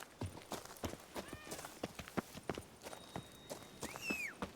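Roach the horse's hooves clip-clopping at a walk in Witcher 3: Blood and Wine, a steady rhythmic run of close hoof strikes through a busy village, with a brief whinny near the end.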